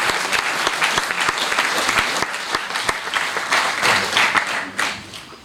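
Audience applause at a civic reception honoring outstanding local athletes, dense and sustained with distinct individual claps throughout, fairly close and steady for the whole stretch.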